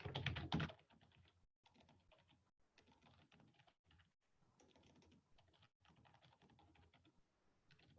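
Typing on a computer keyboard: a loud cluster of keystrokes at the start, then steady, quieter clicking that runs on with short pauses. No one speaks.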